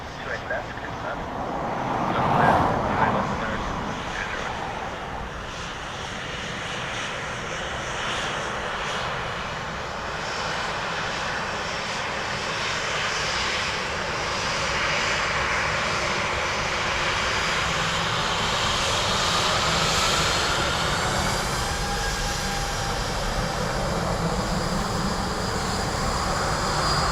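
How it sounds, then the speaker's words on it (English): An American Airlines Boeing Dreamliner jet from Chicago rumbles steadily at a distance, a broad, sustained engine roar that swells slightly and holds for the whole stretch, with a brief louder burst early on. "AA Dreamliner from Chicago."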